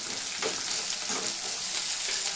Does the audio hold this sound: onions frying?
yes